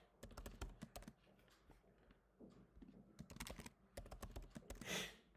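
Quick, close keystrokes clatter on a computer keyboard while account registration details are entered, coming in uneven bursts with brief pauses between them, quiet and alone.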